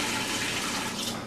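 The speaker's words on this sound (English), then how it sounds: "This is the pork water from this morning. So I'm just going to pour that in." Pork cooking water is poured into a pot, a loud, close, continuous splashing gush of liquid filling the vessel.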